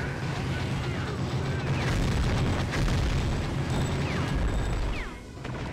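Rocket explosions rumble without a break during Gungrave gameplay, a dense, loud barrage of booms and blasts with faint whistling streaks overhead.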